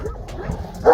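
A Turkmen Alabai dog gives a short, close bark ending in a sharper yip, a single brief burst with faint softer sounds before it.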